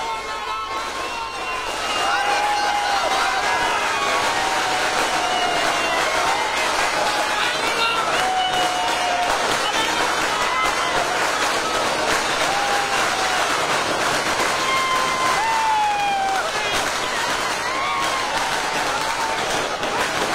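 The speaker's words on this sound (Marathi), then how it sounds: "कार्यकर्ते जोरदार घोषणाबाजी देत आहेत।" NCP party workers and supporters of Rohit Pawar in Mumbai chant slogans and cheer loudly after his ED questioning, a dense, sustained crowd roar of overlapping voices filling the whole stretch with rising and falling shouts.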